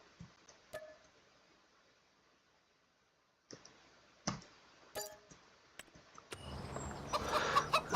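Chickens cluck in a grain-filled chicken coop in the video game Farming Simulator 25, with sparse faint clucks and clicks, quiet gaps, then a busier burst of bird calls and clatter toward the end.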